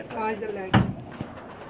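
Pakistani pigeon on a rooftop loft gives a short coo, a soft low burst near the middle, with background voices talking around it.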